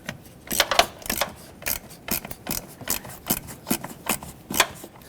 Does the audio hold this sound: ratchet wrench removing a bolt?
yes